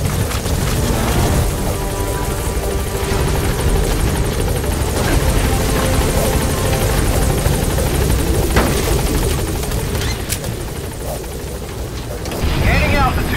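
The Pequod helicopter in Metal Gear Solid V roars loudly and continuously, with a rotor thrum and dense engine noise filling the scene and a voice speaking over it.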